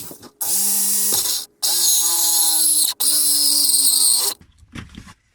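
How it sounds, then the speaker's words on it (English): A power tool cutting off excess plastic on a 1974 Chevrolet front suspension part, three loud sustained whining bursts separated by short pauses, then quiet. "And we'll cut off the excess plastic."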